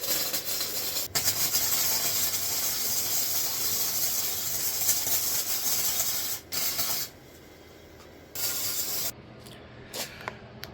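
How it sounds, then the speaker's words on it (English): Welding on the sub-floor of a 1946 Chevy truck gives a steady loud crackling hiss that runs in long continuous beads, broken by brief pauses and short restarts toward the end, close to the workpiece. "I gotta do some welding"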